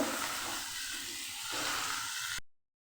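Cauliflower florets rubbed with salt and turmeric fry in hot oil in a pan, giving a steady, close sizzle that lasts about two and a half seconds before cutting to silence.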